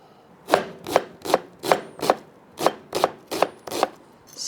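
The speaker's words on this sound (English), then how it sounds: "Red onion. Cut it up nice and fine." A knife chops red onion finely on a board in about ten crisp, evenly spaced strikes, close and clear with no talking.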